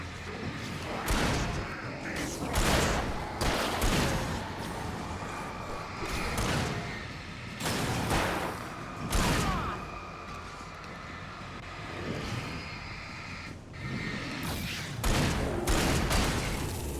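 Gunshots in Alan Wake Remastered, a video game, ring out as loud, sharp blasts spaced a second or two apart, repeating over a rumbling ambient background.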